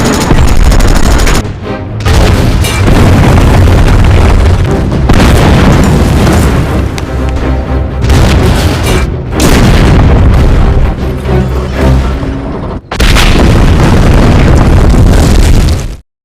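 Movie battle against German tanks with Soviet soldiers attacking: dense, loud gunfire and booming explosions fill nearly the whole stretch, broken by a few brief silent gaps.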